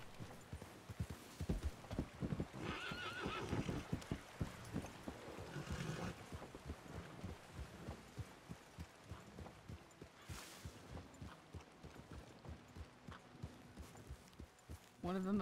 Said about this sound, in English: One of them approached on a horse